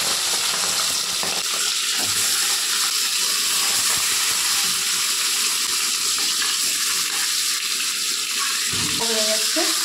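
Turmeric- and salt-rubbed fish frying in hot refined oil, a continuous loud crackling sizzle filling the whole stretch, with a few faint clinks and no clear talking.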